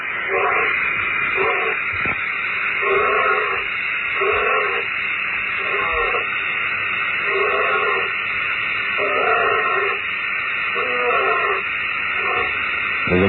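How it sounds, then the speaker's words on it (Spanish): A purported Tasmanian tiger recorded for Australian television gives a series of repeated, evenly spaced husky calls, roughly one per second, over a steady band-limited hiss typical of an old broadcast recording. "Este es el sonido que nos entrega la televisión australiana sobre ese presunto tigre"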